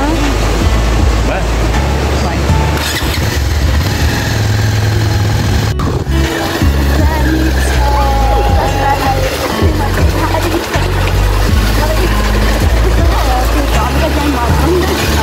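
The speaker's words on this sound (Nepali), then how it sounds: "यता चाहिँ हाम्रो पछाडि ब्याकग्राउन्डमा लड्कु खोला बगिरहेको छ।" The Ladku river rushes steadily below a bridge as a continuous broadband wash, with a low engine rumble and voices mixed over it.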